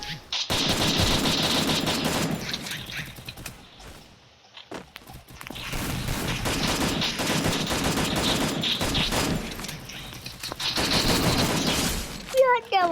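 Rapid automatic gunfire bursts in the Free Fire Max battle game, loud sustained volleys broken by a brief lull, with footsteps and someone talking over the action.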